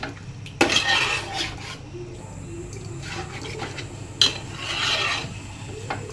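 Chicken being fried and stirred in a pan, a spoon scraping and knocking against the metal in irregular strokes over a low sizzle, close and fairly loud, with no talking.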